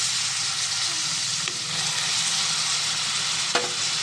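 Onions frying in oil in a pan for a chicken fry, a loud dense sizzle that runs steadily throughout, with a couple of brief stirring clanks and no talking.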